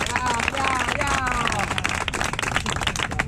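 Crowd clapping and cheering at the final of a freestyle rap battle, a dense, steady wash of hand claps and shouts, loud and continuous, with voices calling out through it.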